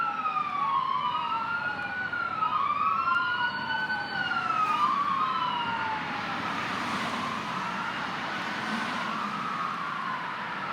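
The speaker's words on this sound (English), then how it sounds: "So, let me let these sirens pass." Several emergency vehicle sirens wail and sweep up and down in overlapping cycles, moderately distant and fading gradually as they pass, over a low background of street hum.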